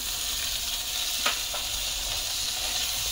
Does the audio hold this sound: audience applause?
no